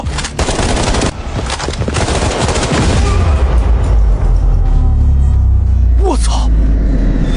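Loud, close automatic gunfire erupts in rapid bursts for a few seconds, then gives way to a rumbling tail, with voices heard around it.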